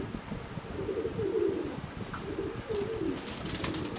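Pigeons, a racer and Pakistani high-flyer pair, give soft low cooing calls in a few repeated phrases, fairly quiet against a faint outdoor background with no talking.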